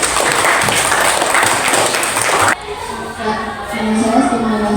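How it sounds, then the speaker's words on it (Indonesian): An audience at a talk on AI content creation breaks into loud, dense applause that stops abruptly partway through, leaving quieter room sound with faint voices. "Tepuk tangan dulu buat kita semua."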